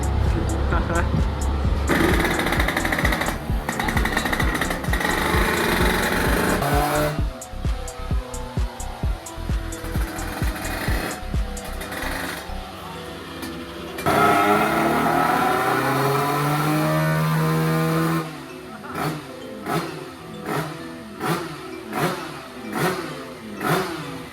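A 1994 Beta moped with an Italkit kit revs hard on a dyno bench, two small fans cooling it, the engine rising and dropping in loud sustained pulls that end in a series of short blips.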